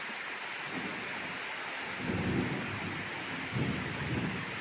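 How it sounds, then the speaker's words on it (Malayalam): Heavy rain pours steadily as a broad, constant wash of noise, with low rumbles of thunder swelling twice, once around the middle and again near the end, during a wind-driven storm. "നമുക്കിവിടെ നല്ല മഴ കേട്ടാ."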